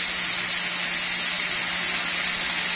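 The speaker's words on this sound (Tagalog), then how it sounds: "Maglagay lang ako guys ng konting tubig para maluto yung ating carrots." Steady broadband hiss of water added to carrots cooking in a hot pan, steaming continuously and fairly close with no pauses or talk.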